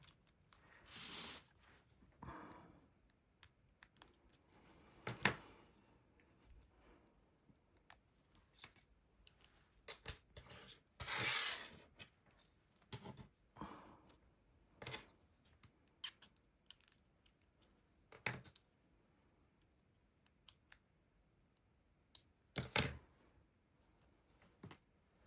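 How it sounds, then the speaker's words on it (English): Scissors poke paper flower and leaf cutouts loose from a sheet: irregular sharp snips, taps and rustles of paper, close and intermittent with quiet gaps between them and no talk. "I'm just going to poke these out with my scissors."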